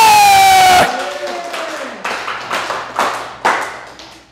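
A church congregation claps together after a sung note cuts off, with several sharp bursts of collective clapping spaced about half a second apart, loud and close.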